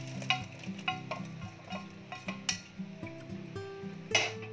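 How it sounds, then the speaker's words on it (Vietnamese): Straw mushrooms are tipped into a pot of snakehead fish porridge cooked with gourd and stirred, giving a steady rhythm of soft scrapes and light metallic clinks against the pot over a faint simmer. "chúng ta sẽ cho phần nấm rơm qua nồi cháo"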